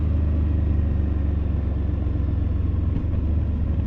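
A Husqvarna Norden 901 motorcycle drones loudly and continuously up close while downshifting with a quick shifter, with a brief shift blip late on and no voices.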